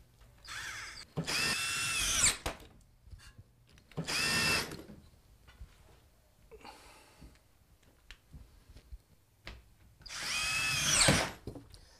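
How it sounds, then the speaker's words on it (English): A screw gun drives drywall screws through wallboard into strapping, giving several loud whirring bursts separated by pauses, with a short softer run in between. "I'm going to screw it right through one of the holes."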